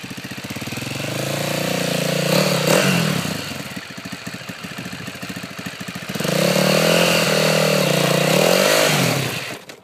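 A motorcycle engine revs hard while climbing a slope, rising to loud sustained surges, dropping back to a rough putter, then roaring up again before cutting off, with faint voices in the background.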